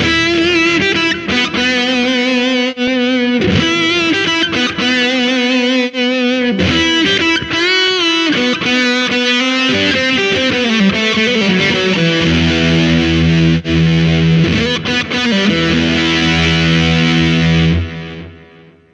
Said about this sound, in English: Modulator delay, spring reverb, tremolo reverb, room reverb, hall reverb, church reverb.